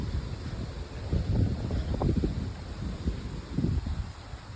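Strong outdoor wind buffets the microphone in gusty, rumbling surges that rise and fall, loud and close, with no voices.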